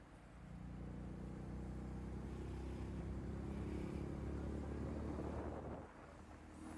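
Honda Astrea Prima motorcycle engine running on a homeward tour from Jogja to Jakarta via Menoreh: a steady low, rumbling idle drone that holds continuously before easing slightly near the end.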